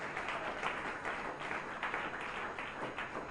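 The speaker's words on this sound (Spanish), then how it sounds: "Un aplauso para el grupo nuevo aquí." A church congregation applauds a new group during a program presentation in Bonaire, with steady, dense clapping filling the room at moderate distance.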